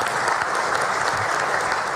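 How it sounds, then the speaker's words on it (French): Applause from an audience at a French political debate, a dense and loud clatter of clapping that runs steadily through the whole stretch. "il y avait eu des applaudissements"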